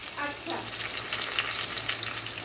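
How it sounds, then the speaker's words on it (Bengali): Mango chicken fries in a pan with a close, steady sizzle and crackle, with bursts of hiss and occasional stirring scrapes, continuous throughout, without voices. "বেশ, এই যে আম চিকেন রান্না করছি"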